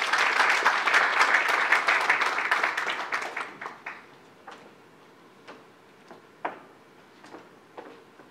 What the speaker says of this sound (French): si vous pouvez l'applaudir,